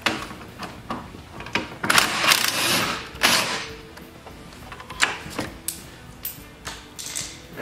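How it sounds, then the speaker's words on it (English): A 12 millimeter socket wrench ratchets cover bolts out of a Honda EU6500is generator, a close series of quick clicking bursts with pauses and small metallic clinks between them. "Then a 12 millimeter socket. You're going to pull these bolts out on either side."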